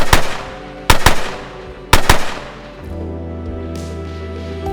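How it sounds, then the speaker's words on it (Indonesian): A close, loud volley of rifle fire at an execution, three sharp cracking shots spaced about a second apart, leaving a low rumbling tail that lingers after the last shot. "rentetan tembakan senapan mengakhiri hidupnya"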